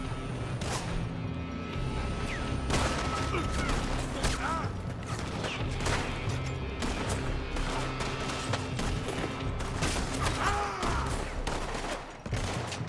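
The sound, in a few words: gunfire from a building, Red Dead Redemption 2 video game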